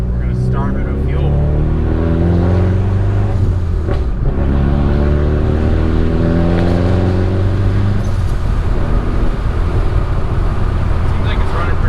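A turbocharged Honda Accord engine, being street tuned, revs loudly and close with a deep droning tone that rises and falls, while a person talks over it throughout.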